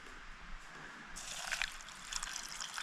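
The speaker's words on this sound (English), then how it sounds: "Put some water in there." Water pours onto dehydrated beans for a backcountry burrito meal, a steady splashing trickle that starts abruptly and runs on fairly close, with no talk over it.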